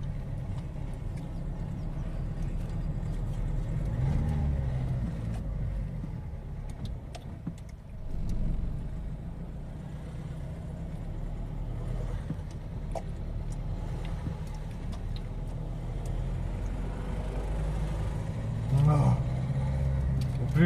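A car climbs the steep zigzag mountain road to Masca on Tenerife, its engine droning steadily at close range as people talk inside throughout.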